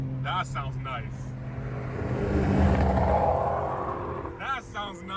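A BMW M car engine revs hard to redline and swells into a loud, rising roar mid-clip on a Toronto street, with excited voices talking before and after.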